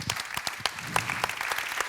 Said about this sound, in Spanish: un aplauso para ella y para todas las mujeres como ella